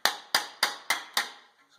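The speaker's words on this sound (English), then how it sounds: "Now you hear that ringing sound? That means it's starting to hit the anvil." A hammer strikes sheet metal held against a dolly in a metalworking shop, five sharp ringing blows in an even rhythm, close and loud with no talk.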